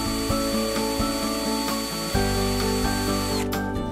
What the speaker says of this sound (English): Then drill a hole.